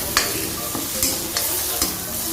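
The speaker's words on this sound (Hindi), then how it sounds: "हमारा जो है ये मसाला भी भुन चुका है" Turmeric and chilli masala fries in a pan with a steady, soft sizzle. Several sharp scraping strokes of a stirring spoon cut through it, and no one speaks.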